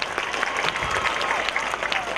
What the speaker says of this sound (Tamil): நல்ல கைத்தட்டல் கொடுங்க.